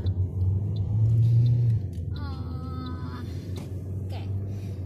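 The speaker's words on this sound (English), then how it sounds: "we're driving around South Australia" Car driving on a road in South Australia, a steady low engine and road rumble from inside the cabin, loudest early, with a brief chime-like tone midway.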